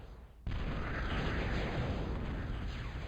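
Strategy game battle: rockets slam into units with a sudden heavy blast that becomes a sustained, dense roar of explosive rumble, loud and continuous with no voices.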